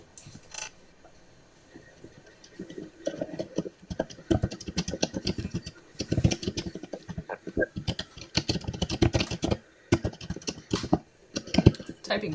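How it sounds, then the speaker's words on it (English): Loud, fast typing on a computer keyboard close by, bursts of rapid key clicks with short pauses, no talking. "Typing very loud."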